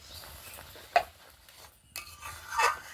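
Raw mango being stirred with salt, turmeric and chilli powder in a bowl, a few scraping and clinking strokes of a spoon with a sharp knock near the start and a louder scrape at the end.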